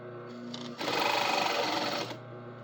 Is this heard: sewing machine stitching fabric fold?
yes